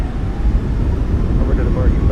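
WestJet Boeing 737 MAX 8 thrust reversers deployed during landing at Palm Springs in a flight simulator, a loud, steady low roar and rumble lasting throughout, with a voice speaking briefly over it.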